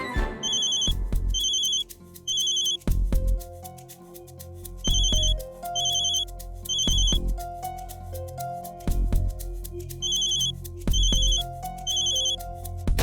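A phone rings with a repeating electronic ringtone in regular bursts over music-like tones, continuing for over ten seconds without anyone answering.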